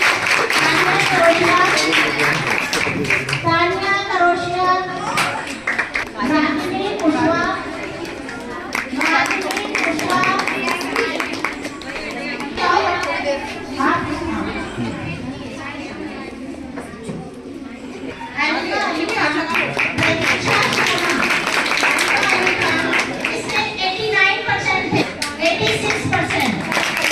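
Schoolgirls at a government girls' higher secondary school award ceremony clap continuously and loudly for long stretches, with busy chatter and children's voices mixed throughout and a brief dip in the middle.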